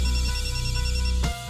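A mobile phone rings in a quiet room, with a steady electronic ringtone playing loudly for a moment before cutting off.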